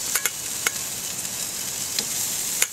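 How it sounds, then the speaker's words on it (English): Small shrimp sizzling on the hot grate of an egg-style grill at about 350-375 degrees, a steady close hiss with a few sharp crackles and pops scattered through it, no talking. "The egg is back up to about 350-375. I'm just going to put the shrimp on."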